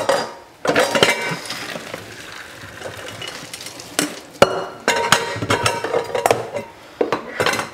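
Chinese noodles being drained, with metallic clanks and scrapes of a pot and colander alongside rushing, splashing water, a busy run of knocks and pours heard up close.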